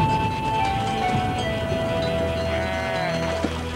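Goats bleat in wavering, drawn-out cries, heard against a dense, steady background that runs continuously through the whole stretch.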